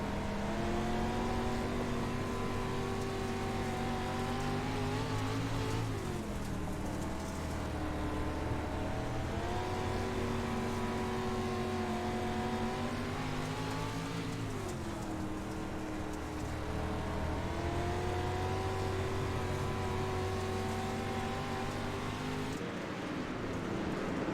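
An on-board lap in a race car at Lanier, with the engine loud and constant throughout. Its pitch climbs and drops through gear changes and corners in repeated cycles.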